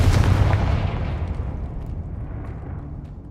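A Confringo explosive spell from Hogwarts Legacy bursts with a loud, heavy boom at the start, then rumbles and fades slowly over a few seconds, with no talking.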